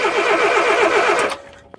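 A roadside engine with an ignition points fault is cranked over by its starter without firing, giving a loud, steady rhythmic churning for about a second and a quarter before it cuts off, followed by a single faint click.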